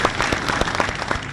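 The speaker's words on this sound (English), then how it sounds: "Applause for Bwana Khalif." Applause from an audience at a public event, a steady wash of many hands clapping with sharp individual claps standing out, loud and close throughout.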